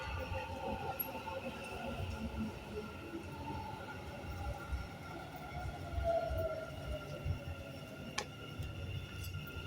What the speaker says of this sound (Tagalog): The train to Expo 2020 will arrive at platform 4.